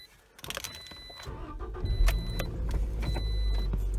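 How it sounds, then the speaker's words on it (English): A Scion xB with over 200,000 miles cranks with a few quick starter clicks, then its engine catches and settles into a steady, close idle rumble. "why don't we start the car up now?"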